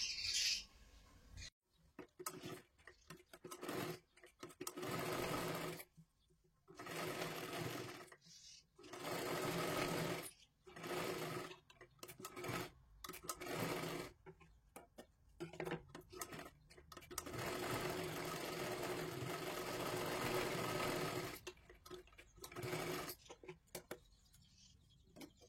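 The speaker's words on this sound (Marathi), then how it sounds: "एकदम सरळ लाईनीमध्ये आपल्याला शिलाई मारायची आहे." A sewing machine stitches a straight seam on a katori blouse in several bursts of rapid, rattling needle action, broken by short pauses, close and steady with no speech.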